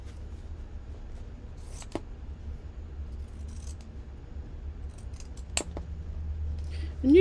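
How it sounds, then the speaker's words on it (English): Pinking shears snip through fabric to cut a carrot shape for an Easter bunny craft: a few crisp, separate cuts over a low steady room hum, with no talking. "we're just going to clip it the same way as I clipped the bunny with the pinking shears"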